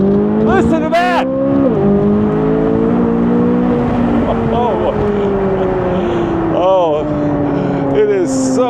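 A 670-horsepower American car accelerates hard, its engine note climbing and dropping through repeated gear changes, loud and close, while people talk excitedly over the roar.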